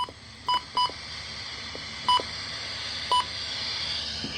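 Weather radio alert tones for a high wind warning over a hissy broadcast: four short, loud, clipped beeps arriving in uneven pairs and singles, with quiet static carrying between them.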